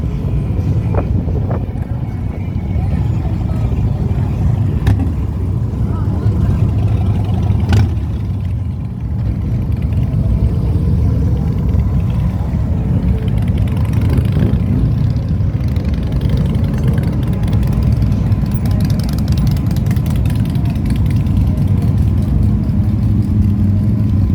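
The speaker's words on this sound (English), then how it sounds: "See how the traffic builds up here" Steady road traffic in Myrtle Beach during bike week, a continuous low engine rumble of cars and motorcycles idling and rolling past, loud and close, with wind buffeting the microphone throughout.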